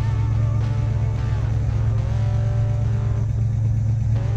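A car engine with a 160 thermostat and a water vapor system idles in park, giving a steady, loud, close low rumble throughout with no voices.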